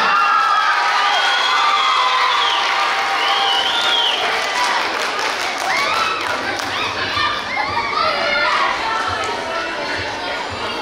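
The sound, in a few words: audience cheering and applause for students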